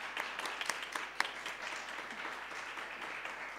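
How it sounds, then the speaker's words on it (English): Applause from an audience at a gathering, a fairly soft, continuous patter of many hands with a few sharper claps standing out early on, no talk over it. "it was not so easy to give big applause to Nathalie"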